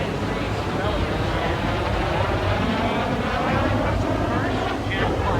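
T-33 Shooting Star jet in a handling display at the Pacific Airshow, a loud continuous roar with wind rush and a slowly shifting whine, while an announcer talks over it.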